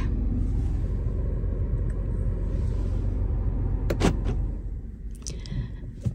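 A car engine idles with a low, steady rumble and then cuts out, the sound dropping away, followed by a few brief clicks and knocks in the quiet that follows.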